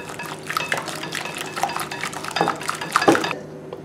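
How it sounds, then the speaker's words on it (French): Eggs and sugar being mixed in a glass salad bowl for peanut brownie batter: steady scraping and clinking of a utensil against the bowl, with wet stirring and a louder knock near the end, no talk. "Dans un saladier, il faut verser les œufs, le sucre."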